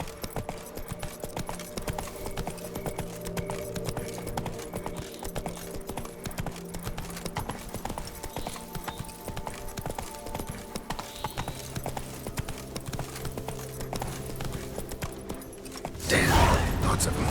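Roach, a horse in The Witcher 3, trots with steady clip-clopping hooves under a dense game soundscape of music and ambience. A louder burst of noise cuts in near the end.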